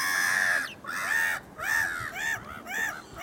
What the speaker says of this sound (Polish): To jest nasza mewa.